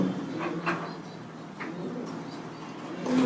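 Soft cooing of a leg-ringed racing pigeon in a racing loft, a few low bursts close by, with some faint rustling and background noise between calls.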